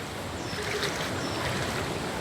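Floodwater surging through a submerged neighborhood in Calayo, Nasugbu, after monsoon rains, a steady broadband rush and churn of moving water heard close and continuous with no voices.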